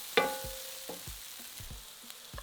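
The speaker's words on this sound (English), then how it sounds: "Fry for a further minute while stirring" Onions, mushrooms and minced garlic fry in a pan under steady stirring. A quiet sizzle runs beneath a series of short, rhythmic spatula scrapes, close and fairly soft.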